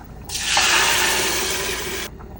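Full-fat milk pours into a pot in one steady, gushing stream for about two seconds, close and fairly loud, starting and stopping abruptly against a quiet background.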